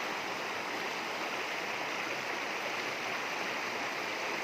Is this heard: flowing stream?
yes